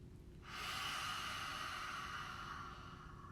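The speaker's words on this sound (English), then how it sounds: "Inhale again through the nose." A single close, soft breath drawn in through the nose rushes steadily for about three seconds, hissy and quiet, with no talking.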